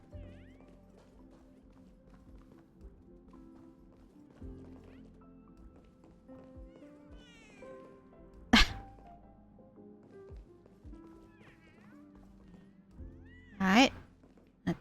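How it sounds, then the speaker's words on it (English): Cats meowing in the Honkai: Star Rail video game sound as short, faint mews over quiet game music, with two loud sharp bursts cutting in. "I can still hear cats."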